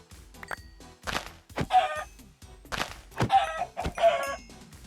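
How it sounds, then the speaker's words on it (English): Minecraft chickens in the Project Ozone 3 modpack cluck in short bursts across the clip, several close, moderately loud calls with soft thumps between them and no talking. "Got some chickens."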